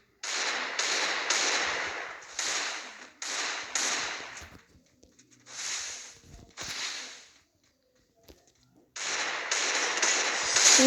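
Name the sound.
Desert Eagle gunshots in video game Free Fire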